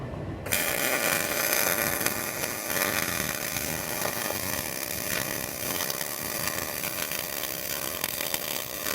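A loud power tool cuts continuously through an old, damaged car frame rail section, a harsh sustained whine and grind that starts abruptly and runs without a break.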